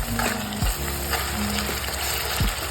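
Onion, tomato and ginger-garlic paste frying in a pan for a spicy matki sprout curry, a dense continuous sizzle close up with a couple of brief knocks, no talking.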